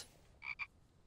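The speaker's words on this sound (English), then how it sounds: "there's too many frogs there. They sound like they're playing together" Frogs croak in the video game The Infected, two short close croaks in quick succession over a quiet background.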